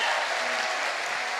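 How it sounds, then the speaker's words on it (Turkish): An audience at a solo concert applauds, a full steady wash of clapping from a crowd that carries on evenly at moderate loudness, with no voices over it. "Hadi bir güçlü alkışta."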